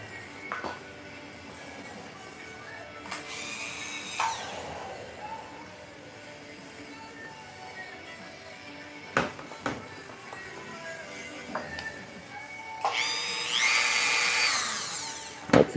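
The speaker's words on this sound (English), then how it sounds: "Get my trusty Dremel." A Dremel rotary tool run by a foot pedal cuts in short, loud, high-pitched whining bursts, one early and a longer one near the end, separated by quieter handling clicks and knocks.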